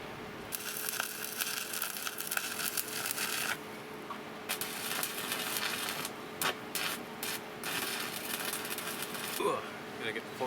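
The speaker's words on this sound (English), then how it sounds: "go weld the new brackets on." New brackets are welded onto an old camper frame in a run of loud, crackling, sputtering bursts: a long stretch, a pause, another stretch, then several short zaps, with brief gaps of quiet between them.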